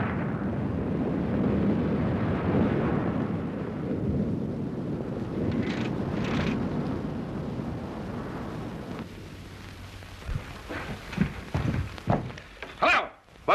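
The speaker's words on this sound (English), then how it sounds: "There's been an explosion, sir." A loud explosion in a 1938 film: a long, heavy rumbling roar fills the first half, then subsides into quieter debris thumps and clatter near the end.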